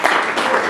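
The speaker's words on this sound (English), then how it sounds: "Can you give a round of applause?" Brief burst of audience applause at a reggae event, a dense wash of clapping sustained through the short moment, fairly loud and close with no clear talk over it.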